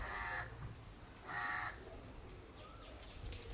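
A crow caws two loud, harsh calls from fairly close, separated by about a second of quiet outdoor background with faint distant noise.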